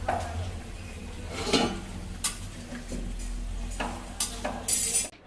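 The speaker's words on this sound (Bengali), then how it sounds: "এটাকে ভালোভাবে একটু নেড়ে চেড়ে মিশিয়ে দিচ্ছে" A spoon stirs prawn curry in a pan, producing scraping and clattering strokes that come in irregular bursts over a soft, steady sizzle, ending with a sharper clank.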